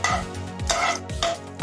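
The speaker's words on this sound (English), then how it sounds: "Keep stirring it once you keep adding the things" Masala for wada pav stirred in a pan with hing, a spoon scraping and clanking against the metal in about four rhythmic strokes, close and loud with faint sizzling between.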